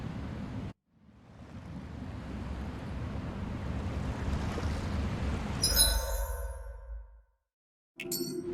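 A ship sailing over ocean waves in Tales of Arise gives a broad rushing swell of surf and wind that builds and fades, broken by short bright chiming tones near the end.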